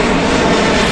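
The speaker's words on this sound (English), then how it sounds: "You can come and see some planes as well." Airplane flies over a racecourse near Toulouse, France, its engine a loud, steady roar filling the whole moment.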